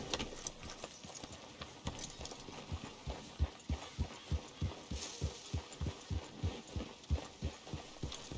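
Horse hooves gallop in Red Dead Redemption 2, a steady, even run of hoofbeats that grows louder and more distinct, with a faint hum underneath.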